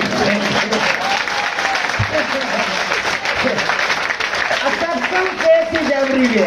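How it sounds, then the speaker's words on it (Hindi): A large seminar audience of several hundred breaks into loud, continuous applause that fills the room, with a voice speaking over the clapping. "लो जोरदार ताली"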